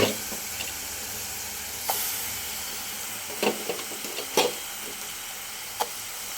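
Goat lung pieces and soaked, drained chana dal frying together in a pan give a steady, close sizzle with a few sharp spatula scrapes and clinks scattered through it, no voices.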